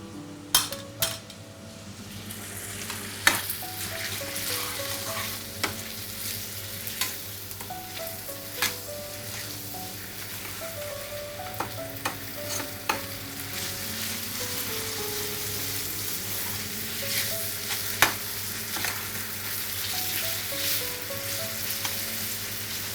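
Onions fry in a pan with a little salt for a masala egg dish: a steady sizzle runs throughout, with periodic clinks and scrapes of a utensil against the pan and a faint hum underneath.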